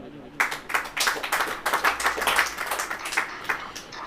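A congregation at a church sermon claps hands in a quick burst of many overlapping claps lasting a few seconds, moderately loud in a reverberant hall.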